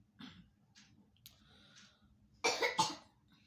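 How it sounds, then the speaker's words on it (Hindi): Soft breaths and small throat sounds, then two sharp coughs in quick succession, close and fairly loud against a quiet background. "खांसी हो रही है"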